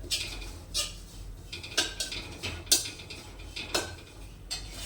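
A spoon stirs adadiya mixture being roasted in ghee in a pan, making a few soft, evenly spaced metallic clinks and scrapes over a faint background, with no voices.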